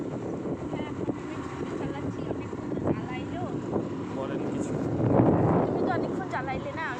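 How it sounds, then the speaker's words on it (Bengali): A scooter ride outdoors: steady wind buffeting and engine drone run throughout, growing louder near the end, with a voice talking over the noise. "আপনাদের ইউটিউবার এখন স্কুটি চালাচ্ছে"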